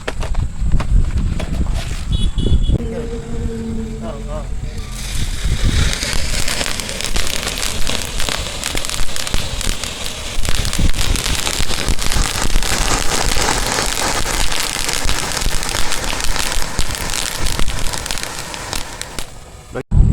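A drone-type firework crackles outdoors, a dense, continuous spray of sharp pops and sizzling that stays loud and close for a long stretch after a few scattered bangs and handling noises at the start.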